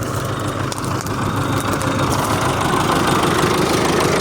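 An MTZ tractor engine idles steadily with a low, rumbling diesel knock and mechanical rattle, close and loud, unchanging throughout with no voices over it.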